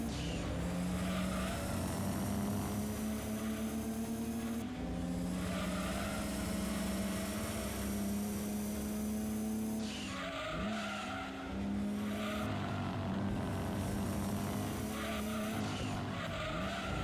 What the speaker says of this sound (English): This car is so good at cornering.